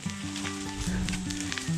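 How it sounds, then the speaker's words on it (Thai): Cogon grass and dry brush crackle and sizzle as they burn in a field being cleared for a garden home, a steady fizzing crackle running throughout beneath a stepping tonal melody. "นี่เบิ่งอาม่าเพิ่นเผาแบบนั้นเนาะ"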